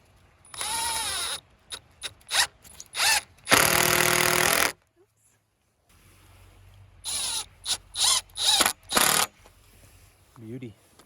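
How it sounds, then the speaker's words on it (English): Power drill driving screws through two-hole clamps on a DIY low tunnel for cold-hardy flowers, several whirring bursts of varying length with a long continuous run and short pulses, close and loud. "Here we just got some 2-hole clamps, some screws. We're just gonna screw it up."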